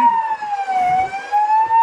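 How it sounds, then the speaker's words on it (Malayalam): An ambulance siren wails continuously and loudly at a landslide site on a Kashmir road, its tone dipping slightly and rising again with faint road rumble beneath. "സേഫ്റ്റിക്ക് വേണ്ടിട്ട് ആംബുലൻസ് അവിടെ വന്ന് നിൽക്കുന്നുണ്ട്."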